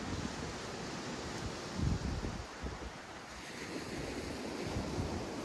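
Sea waves wash onto the shore below Bamburgh Castle in Northumberland, a steady broadband surf with a brief louder surge partway through, carried on a noticeable wind rush across the microphone.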